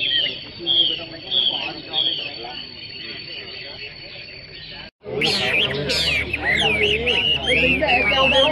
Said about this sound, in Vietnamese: hai con chim đấy là đánh nhau nhá